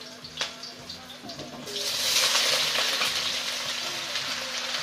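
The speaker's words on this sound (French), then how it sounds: "Pour tester, je vais mettre quelques brins d'oignon. Voilà, vous entendez, ça frémit." Onions dropped into hot oil in a pan over medium heat for a meatball and vegetable thiou: a sudden bright sizzle swells up and keeps crackling steadily, close and fairly loud, after a few quieter clinks and stirring sounds.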